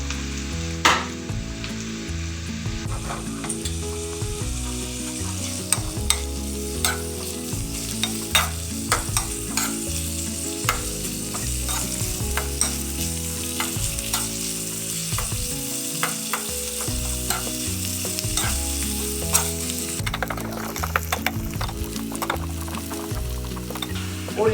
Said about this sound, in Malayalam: ഉള്ളിതാ വഴണ്ടി കിട്ടിയിട്ടുണ്ട്.